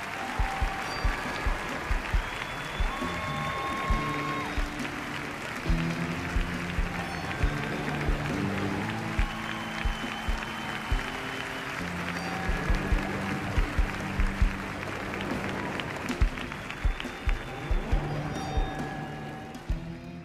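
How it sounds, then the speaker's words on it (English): Applause from the audience at the Emmy awards, a sustained dense wash of clapping with scattered louder claps and music mixed underneath, lasting throughout. "Can we please have another round of applause for Jim Carter, Josh Charles, Peter Dinklage"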